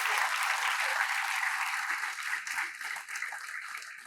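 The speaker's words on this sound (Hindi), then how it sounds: "थोड़ा एक बार तालियां बजा दीजिए" Steady applause from the audience at a Hindi poetry gathering in Chandigarh, a bright, even wash of clapping that holds through and eases slightly toward the end.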